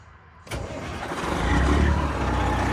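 A semi truck's diesel engine, just repaired, cranks once after a moment of quiet and catches, rising into a loud, deep, steady idle rumble close by.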